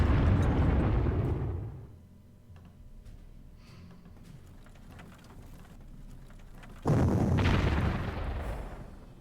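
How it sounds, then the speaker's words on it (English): Loud level-bombing explosions in the wargame Panzer Corps, a heavy rumbling blast fading over two seconds, a quieter stretch of low rumble, then a second sharp blast that rolls on to the end. "So it should be safe to level bomb here."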